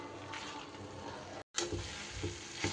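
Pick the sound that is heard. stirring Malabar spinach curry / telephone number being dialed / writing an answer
stirring Malabar spinach curry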